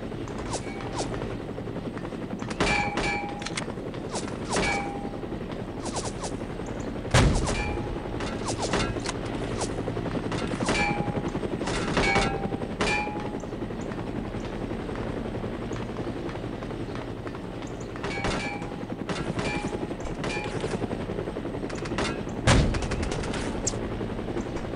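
Gunfire aimed at a helicopter in the video game No One Lives Forever: repeated sharp shots and short bursts ring out over a continuous rotor drone, with a few louder impacts.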